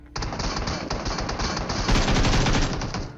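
Gunfire in the mobile battle-royale game BGMI: loud, continuous bursts of rapid automatic weapon shots at close range, densely layered over the whole span with no talk.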